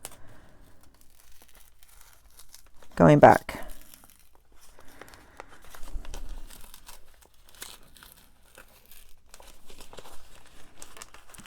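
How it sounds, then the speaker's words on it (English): Paper page tearing out of a planner during creative journaling, one loud brief rip lasting about half a second near the start, with soft rustling and someone talking quietly around it. "she says as she rips the paper"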